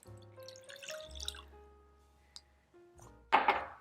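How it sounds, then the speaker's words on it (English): Low sodium vegetable broth poured into a bowl of mixed ingredients, heard close up as short liquid splashes and drips with a few light thunks, quiet overall, ending in a brief louder splash, without speech. "And 1 cup of low sodium vegetable broth."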